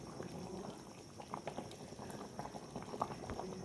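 Fish curry with vegetables simmers in a pot, a soft steady bubbling and gurgling at low volume with occasional small pops, no voices over it.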